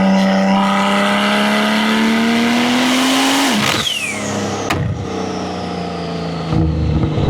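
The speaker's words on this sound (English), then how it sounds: "It's the way it delivers the power and the way these turbos spool up." A tuned Porsche 992 Turbo accelerating hard at full throttle, its twin-turbo engine note climbing loudly through the revs, then a sharp gear change and the engine pulling again, heard close from inside the cabin.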